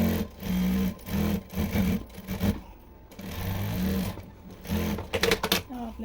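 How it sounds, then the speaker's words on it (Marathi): A sewing machine stitches the side seam of a dress made from a sari, running in several steady bursts of rapid mechanical chatter with short pauses between them, close and fairly loud, with a little faint talk. "आपल्याला साईडला टीप मारून घ्यायचं आहे"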